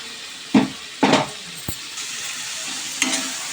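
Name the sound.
frying ginger garlic paste, tomato, onion and spices in pan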